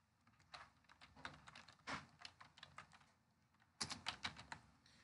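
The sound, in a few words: typing on a computer keyboard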